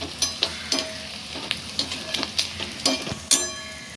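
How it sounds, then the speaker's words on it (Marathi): Chopped onion frying in a pan for a vagota leaf vegetable dish, a steady sizzle broken by regular scraping stirs about every half second, close and moderately loud with no talk. "थोडा आता कांदा आपल्याला थोडा तांबूस असा लाल करायचा आहे"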